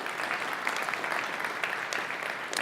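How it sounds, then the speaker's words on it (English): A quick round of applause from an event audience thanking sponsors, moderately quiet, steady clapping from a crowd with scattered sharper claps standing out. "I'd like a quick round of applause for ARM, Intel, and Mellanox"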